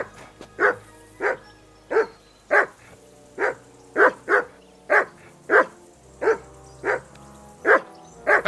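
A dog in the game Kingdom Come Deliverance 2 barks steadily, about a dozen sharp, evenly spaced barks close by over a quiet low background, with no talk.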